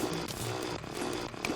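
A drill bores through blocks in the video game Terraria, a buzzing, revving mechanical whine like a chainsaw that pulses unevenly with brief dips, at moderate level and without speech.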